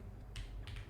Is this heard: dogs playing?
no